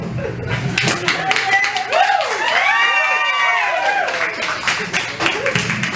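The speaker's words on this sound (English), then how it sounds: "Thank you for the clapping action." An audience claps at Walt Disney's Enchanted Tiki pre-show, the rapid crowd applause opening and closing the stretch around a middle passage of swooping, sung or whistled tones.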